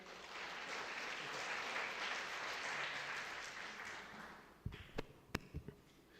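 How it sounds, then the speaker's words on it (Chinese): A church congregation at a Sunday service claps hands in welcome, a dense, steady burst of applause lasting several seconds before tapering into a few scattered claps and knocks. "我们来拍手欢迎来。"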